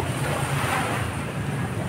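Sea waves wash against a sea wall with boats out on the water, a steady, loud roar mixed with wind buffeting the microphone.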